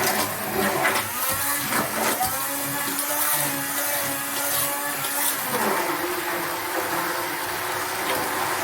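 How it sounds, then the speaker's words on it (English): A hand blender buzzes continuously while blending soup, its motor pitch shifting and dipping as it churns through the thick liquid. "we're going to hit the hand blender, and we're going to blend this up"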